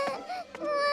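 A cartoon baby cries in a short, wavering wail over music in an animated French family show, a brief sob close up without any spoken words.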